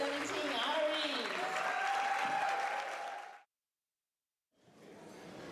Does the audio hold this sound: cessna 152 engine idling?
no